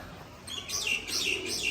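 Pigeons kept as pet birds, including a female, call in short bursts close by, a few soft repeated coos and chirps over faint background noise, with no one talking.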